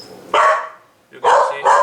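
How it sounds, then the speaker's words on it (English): A dog barks three times nearby, one sharp bark followed after a pause by two quick ones, loud and clear. "sorry for the dog barking"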